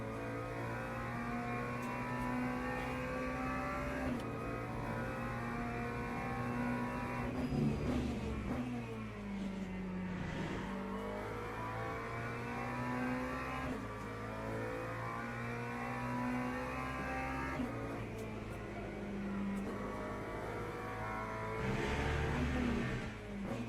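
A race car engine in Le Mans Ultimate holds a steady high drone, with gear changes and rises and falls in revs as it brakes and accelerates, running continuously at moderate loudness.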